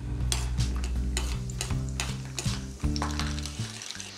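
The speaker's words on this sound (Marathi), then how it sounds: "तेल गरम झालं की आपण शेंगदाणे तळून घेणार" Peanuts frying in hot oil in a kadhai, a continuous close sizzle with repeated scraping stirs and soft clunks of a spoon against the pan, steady for about four seconds with no voices.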